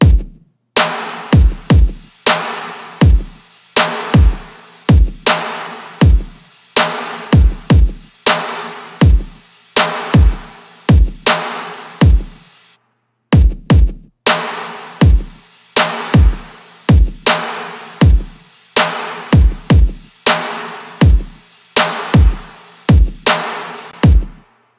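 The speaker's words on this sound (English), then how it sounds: "the next section we're going to have a look at is the kick and the snare" Soloed kick and snare from a heavy future bass track hit in a steady, punchy pattern, with a brief gap partway through before the beat resumes.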